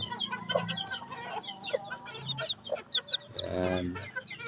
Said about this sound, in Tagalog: ito na yung ating sisiw